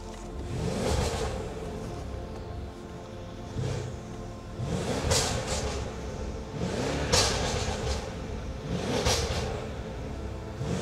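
Mercedes S-Class with a stage 2 tune, downpipes and intake, accelerating in repeated pulls, its exhaust rising and falling in loud surges over a steady engine rumble, heard from inside or near the car with no talk.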